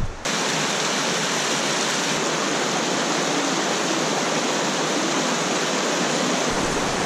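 A hot spring waterfall spills into a creek-fed pool, a steady full-band roar of falling water that stays loud and unbroken throughout, with no voices.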